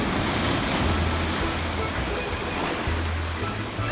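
Ocean surf washing onto a sandy Florida beach, a steady close wash of breaking waves with low rumbling swells.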